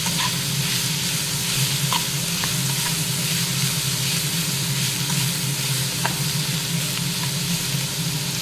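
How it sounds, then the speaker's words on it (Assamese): Paneer fried rice is stir-fried in a pan, a constant loud sizzle with occasional light scrapes and clinks of the spatula, steady throughout with no voices. "এতিয়া এইখিনি মই কিছু সময় এনেকৈ লৰাই ভাজি থাকিম।"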